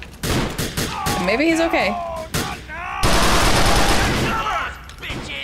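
Gunfire during a biker gang shootout in GTA IV: The Lost and Damned, with loud repeated shots and bursts over sirens and game noise while voices talk.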